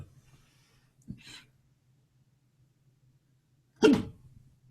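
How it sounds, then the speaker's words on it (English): Two short, abrupt hiccups in an otherwise quiet room, a small one first and a louder, sharper one a few seconds later. "I hiccuped."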